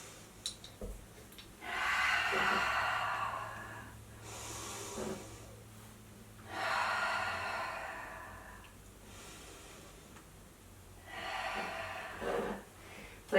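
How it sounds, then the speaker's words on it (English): Slow yoga breathing during a mommy-and-me session, three long airy breaths with quiet pauses between them, close and soft, with no talking. "let's take 3 breaths here"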